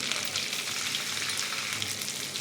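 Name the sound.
ginger and green chilli paste sizzling in a pan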